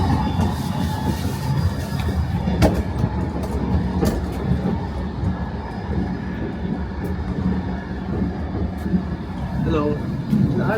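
An old passenger train in Ukraine rumbles along the rails, heard from inside the carriage as a steady low roll with occasional clanks and knocks, while people talk close by throughout.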